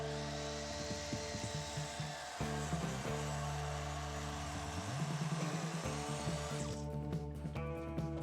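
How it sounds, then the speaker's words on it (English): A large circular saw cuts through a wooden roof rafter board at an angle, with a steady loud whine that dips and shifts in pitch as the blade bites, then winds down near the end. No one speaks. "use the big circular saw again to get most of that cut out"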